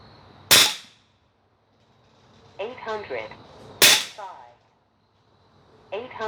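Two sharp, loud shots from a Huben GK1 PCP air pistol, a few seconds apart, each followed by a brief ringing tail, with a voice speaking softly between them.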